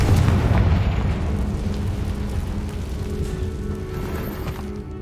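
A Confringo spell explosion goes off inside a cave in Hogwarts Legacy as a heavy, close boom that trails into a low, rumbling decay lasting several seconds.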